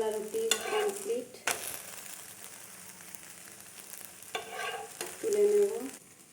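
Gola roti frying in a pan, a steady close sizzle broken by a few sharp scrapes and stirring clatters as it finishes cooking.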